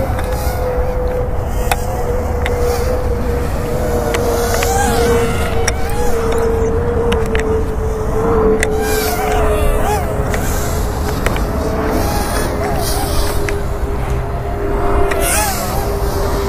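A Heliway 903 sporty mini toy drone flies at full throttle, its small rotors giving a steady, loud high-pitched whine that holds throughout, with soft speech beneath.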